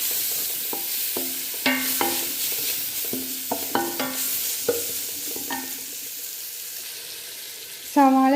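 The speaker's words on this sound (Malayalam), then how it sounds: "നമ്മൾ സവാള ഇടയ്ക്കിടയ്ക്ക് ഇങ്ങനെ ഇളക്കി കൊടുക്കാം." Sliced onions frying in a pan are stirred with a spoon, giving repeated scraping strokes over a steady low sizzle, and a louder clatter comes near the end.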